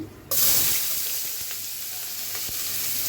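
Chopped onion hits hot oil with garam masala in a pan, setting off a sudden loud sizzle that holds steady and bright, with a few faint scrapes underneath.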